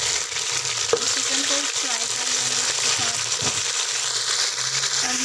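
Chicken hits a pan of browned onions and fries with a steady, close broadband sizzle, with occasional stirring scrapes and faint spoken words mixed in.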